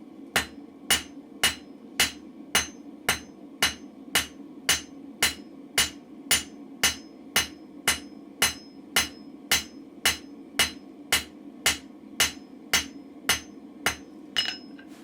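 A hammer strikes a steel chisel on an anvil in a blacksmith's forge, about thirty bright ringing blows at a steady, even rhythm, close and loud, over a low background hum.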